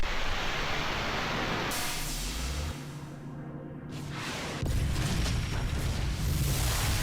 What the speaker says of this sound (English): The explosions sound fantastic.